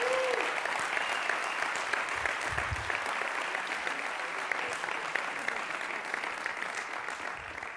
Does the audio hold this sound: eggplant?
no